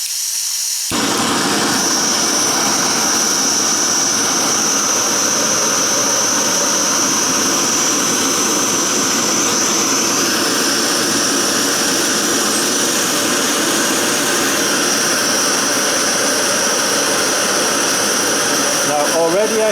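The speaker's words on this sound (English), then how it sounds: "when it's at full it really is quite a fearsome flame" An Alpkit Kraku gas stove burner roars steadily at full flame, a loud, continuous jet-like hiss that persists alone for nearly twenty seconds after a brief quiet start.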